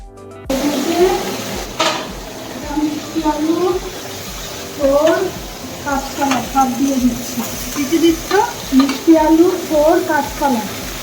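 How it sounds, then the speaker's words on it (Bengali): Potatoes fry in a pan with a steady crackling sizzle, while people talk over it almost continuously. "একদিকে আলু ভাজা হচ্ছে"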